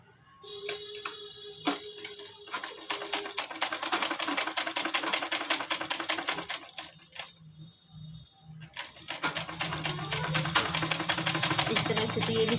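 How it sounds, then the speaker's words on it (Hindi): A sewing machine stitches fabric for a small girl's frock in rapid, close mechanical ticking bursts. The run pauses briefly partway through, and a voice talks over the machine at times. "हम इसके ऊपर इस तरह से डाल करके एक सिलाई लगा लेंगे इस तरह से, बिल्कुल बराबर से"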